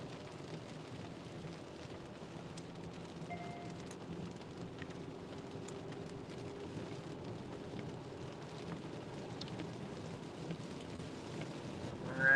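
Steady rain falling during a Kansas storm chase, a constant even wash of drops with faint low thunder rumbling underneath, continuous and without talk.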